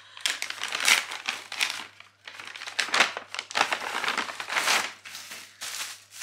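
Plastic bag packaging from a travel haul crinkles and rustles close up in repeated bursts, loud crackling handling with short pauses between.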